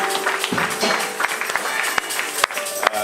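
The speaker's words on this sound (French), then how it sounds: "Donnez une acclamation au Seigneur." Church congregation applauding at a French-speaking worship service, a steady wash of clapping with sharper individual claps standing out, moderately loud and continuous with some faint voices underneath.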